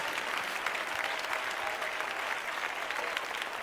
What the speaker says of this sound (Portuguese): para todo mundo dar a melhor salva de palmas para Jesus